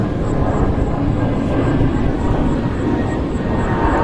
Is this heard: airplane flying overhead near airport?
yes